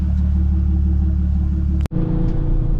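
A supercharged Audi S4 idles close by while warming up, a steady low rumble with one brief cutout near the two-second mark before the drone resumes.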